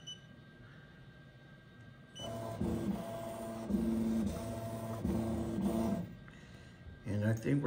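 A Ricoma embroidery machine traces a design on a kitchen towel, a steady mechanical whir with humming motor tones running for about four seconds before stopping, followed by a short burst of clicks.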